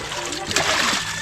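Water splashes and sloshes in a home kitchen, a short, fairly loud burst of spattering with a sharper surge midway.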